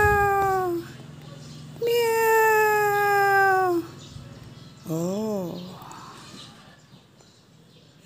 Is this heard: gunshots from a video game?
no